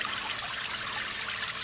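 Water pumped up from a sump trickles and splashes steadily into an aquaponics fish tank, a constant close hiss of falling water with no pauses.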